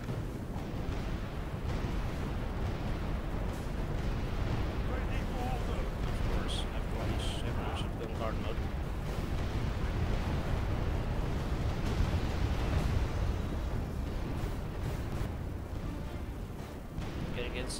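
Continuous rumbling booms and blasts of cannon tower fire in a Medieval 2 siege battle roll on without pause, a dense low roar filling the whole stretch.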